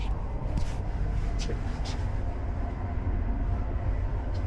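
Steady interior rumble of a Chinese high-speed train running, a continuous broadband roar with faint rhythmic rattles, heard from inside the carriage.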